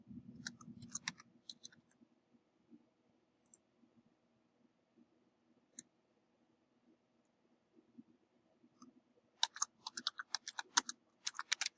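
Names being typed on a computer keyboard: bursts of quick, light key clicks come in short runs with long quiet gaps, ending in a denser flurry of tapping, close and soft.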